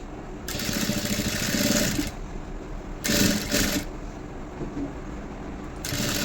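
A sewing machine stitches a border onto a blouse in three separate runs: a long burst, a shorter one, then another starting at the end. It whirs quietly and close, with no talk.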